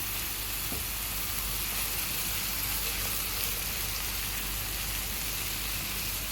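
Oil sizzles steadily in a pan while ingredients sauté for a Egyptian roqaq pastry tray, a dense even hiss with a couple of faint taps, constant and close throughout.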